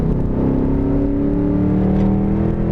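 Engine of a 2004 Ford Mustang Mach 1 revving steadily and loudly up close, its pitch climbing as it winds out through a gear, with no talk over it.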